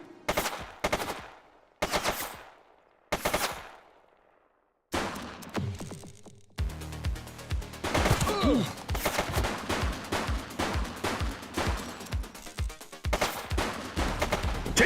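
Gunfire from a suspect in a video game: several separate loud shots with short gaps, then a long, steady burst of rapid automatic fire that rattles on without letup.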